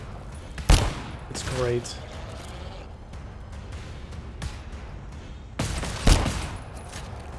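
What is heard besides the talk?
high caliber pistol shots in the video game GTFO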